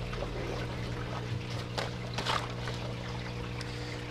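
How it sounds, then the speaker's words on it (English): Water flows steadily through an aquaponics system's clay media bed and floating plant rafts, a continuous trickling and gurgling wash with occasional splashy bursts, close and alone. "So the water flows from the clay bed through the rafts and then by gravity back into a sump tank down here"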